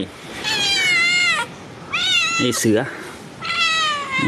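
A cat meows loudly and close by, giving three drawn-out cries separated by short gaps. A person speaks briefly between the cries.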